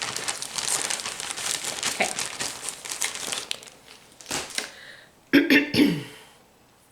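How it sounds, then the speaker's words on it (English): Embroidery floss being tucked back into a plastic bag gives steady crinkling for several seconds, then a pause and a few louder, sharper crinkles up close before it fades out. "I'm putting these back in the bag so I don't get them mixed up."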